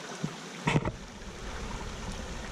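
Crisp, clear water of Summit City Creek flowing through a canyon in the Mokelumne Wilderness, Alpine County, California, giving a steady broadband rush with a brief knock near the start.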